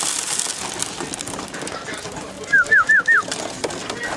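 Racing homing pigeons coo outdoors after being flown, soft low murmurs under a faint ambient hiss, followed near the end by four sharp, clear rising calls in quick succession.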